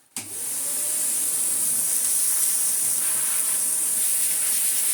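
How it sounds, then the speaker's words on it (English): A Bosch Unlimited cordless vacuum cleaner switches on with a quick click and then runs at a steady, close, high-pitched whine. "that's vacuuming off nice"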